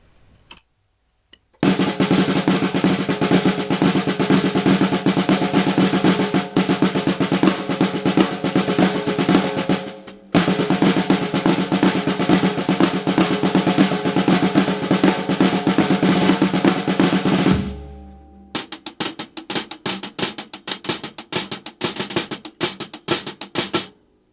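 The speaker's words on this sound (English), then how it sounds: "I've been trying to develop a whole bunch of flam vocabulary." Loud, dense drumming of flam patterns built on the Swiss triplet rudiment, near and continuous, with a brief break partway through and a sparser, choppier passage at the end.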